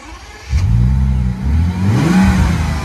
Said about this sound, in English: This is the Bentley W12 with a 600 horsepower engine.